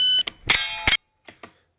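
A shot timer's short electronic start beep sounds in a recorded shooting-range session. Two loud, sharp reports follow closely, then two fainter clicks or knocks, with no talking.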